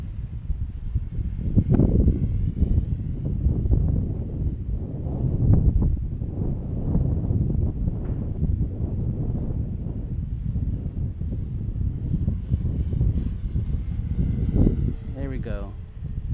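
Steady wind buffets the microphone throughout a gusty outdoor drone flight, a broad low roar that holds loud and unbroken while a person talks over it.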